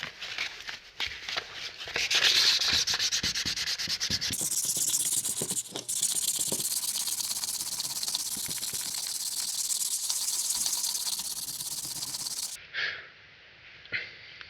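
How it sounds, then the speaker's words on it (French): An exhaust pipe being wet sanded by hand with 600-grit sandpaper and water: close, continuous rasping scrubbing strokes that run steadily for most of the stretch, then break off into a few short, quieter passes. "Puis là je passe au 600 à l'eau pour bien tout aplatir comme il faut."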